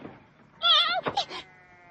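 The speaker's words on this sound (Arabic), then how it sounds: "قطيع الأغنام يعبر الطريق ويغلقه أمامي" A sheep bleats briefly from a flock crossing a road on dry grazing plains, one wavering cry followed by a shorter second call, fairly close with faint background noise.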